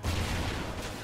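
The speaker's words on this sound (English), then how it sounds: "Oh, grenade." Grenade blast in the Call of Duty: Ghosts campaign, a loud broadband boom with rolling low rumble that trails off over about a second, with no voices over it.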